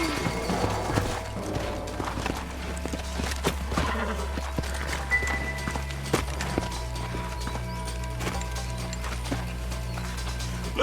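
Horses' hooves clip-clop at a steady trot through a Western setting in the video game Red Dead Redemption, with an occasional whinny over a low ambient music bed.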